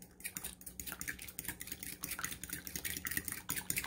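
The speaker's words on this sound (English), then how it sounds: "And we're going to mix our egg." A fork beats an egg in a bowl for French toast, a quick run of close, rapid ticking clicks against the bowl, steady and unbroken, with no voices.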